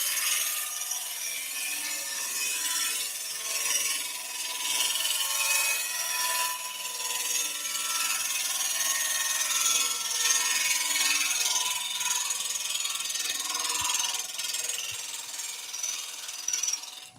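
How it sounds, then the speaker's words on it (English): A chisel cutting a rippled ash bowl spinning on a wood lathe, with the bevel rubbing as the tool is pushed along: a steady, close, rough scraping hiss that runs unbroken with small surges and no talk. "I'm using the bevel, the back of the tool. I'm pushing up the length of the chisel."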